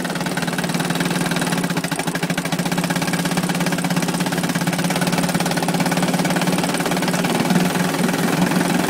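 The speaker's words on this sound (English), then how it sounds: "Gonna go ahead and idle it up and shift it up." A 1964 Evinrude 18 hp outboard motor idles in gear close by, with a loud, steady, rapidly pulsing drone that holds even throughout and has no talk over it.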